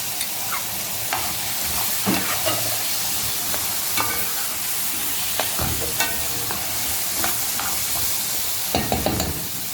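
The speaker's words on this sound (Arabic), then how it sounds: "البطاطس اخدت تشويحه حلوه كده مع البصل، ابدا انزل عليها بمعلقه صلصه طماطم" Potatoes and onions sauté in a pan with tomato paste, producing a steady hiss of frying broken by repeated spoon scrapes and clinks against the pan.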